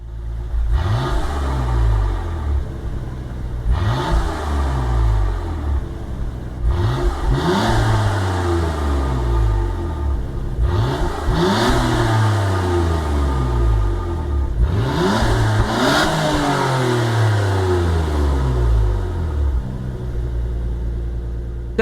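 Nissan Skyline in a racing video game revving repeatedly through its gears, about five rising engine sweeps, each climbing then dropping on the shift, steady and close with no talk.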